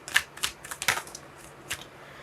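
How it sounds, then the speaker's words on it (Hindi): Tarot cards shuffled by hand in a short series of crisp riffles and flicks, close and fairly quiet, with no talk over them. "One more shuffle."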